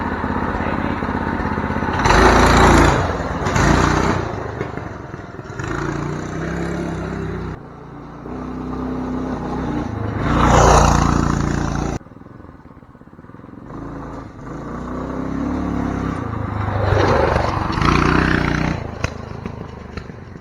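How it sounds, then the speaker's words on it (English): A homemade budget wheelie trike doing a burnout: a small engine revs up and down in repeated loud bursts with rattling mechanical clatter, easing off between surges, with voices talking at times. "Hey, you want to do a burnout?"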